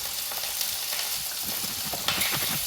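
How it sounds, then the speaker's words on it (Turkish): Eggs fry in a hot pan with a steady, loud hiss of sizzling oil and scattered crackling pops, plus a brief scrape or stir near the end, with no voices. "Bunlar kızarıyor."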